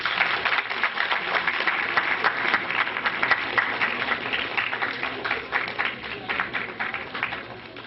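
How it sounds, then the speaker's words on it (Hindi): Sustained applause fills a reunion get-together in Chandigarh, a dense, even wash of many hands clapping for the whole stretch without a break. "प्लीज तालियां बजाते रहिए।"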